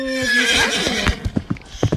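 A horse in a Roblox game whinnies loudly with a long, shaky neigh, followed by a few soft thuds like hooves or footsteps.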